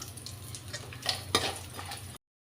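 Red chillies and cashews with garlic crackle and sizzle in a hot pan on a home stove, with a steady fry hiss broken by a few stirring scrapes and clinks near the middle, close and moderately loud.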